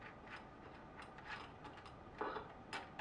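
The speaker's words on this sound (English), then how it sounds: "this is a 3/8 inch wrench. I've already removed the other three. Going to loosen this last one" A 3/8 inch wrench works loose the last nut on a Reactor or Pro-line roller skate plate, giving quiet, close ratcheting clicks and small metallic ticks in irregular bursts over a faint room hiss, with no one talking.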